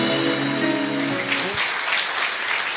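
A church congregation breaks into applause during a worship service. Sustained musical tones come first, then give way to a dense, even clapping that carries on to the end.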